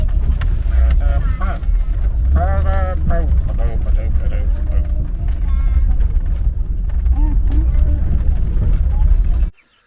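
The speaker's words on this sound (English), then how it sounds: "driving in the Jeep with the family." A Jeep drives along a small family farm, a loud, steady engine and road rumble running throughout, with people talking over it, before the sound cuts off abruptly at the end.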